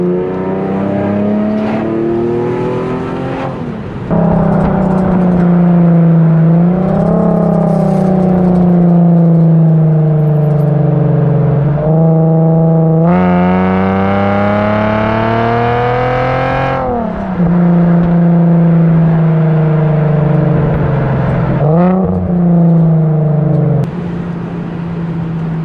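Infiniti G37X fitted with Vibrant resonators, its loud exhaust droning and rising through repeated revs and gear changes while driving, steady and close throughout with no talk.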